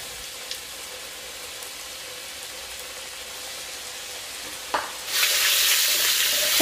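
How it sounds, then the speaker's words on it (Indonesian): Battered shrimp deep frying in hot oil, a steady broadband sizzle that jumps louder near the end as more pieces drop into the pan, with no talking. "selanjutnya langsung aja kita goreng"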